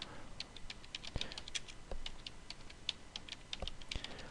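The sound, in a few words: typing a search query on a computer keyboard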